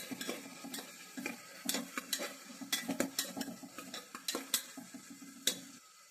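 Carrot pieces cooking in a pan over a low flame for dal khichdi, with steady soft sizzling and frequent clicks and scrapes of a spoon stirring against the pan, no talk.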